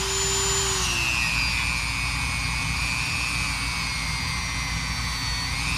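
A power tool polishing and stripping the original fuel cap of a 1983 Suzuki GS 1100e, a loud, steady high-pitched whine with a brief pitch drop early on, unbroken and close, with no voices.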